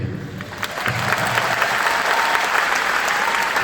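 Sustained applause from a large concert audience at a live show at Kai Tak Sports Park, building slightly and holding as a dense, continuous clapping wash.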